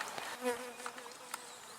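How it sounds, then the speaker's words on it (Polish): Bees buzz faintly around the spot, a soft wavering drone with a few brief louder passes nearby. "A pszczoły ciągle siedzą w tym miejscu."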